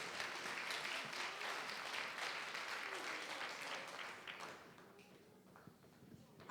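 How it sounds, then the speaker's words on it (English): An audience applauding a community contribution award at a Black History celebration, steady sustained clapping that gradually fades, with faint talk near the end. "Round of applause for Mr. Maltby"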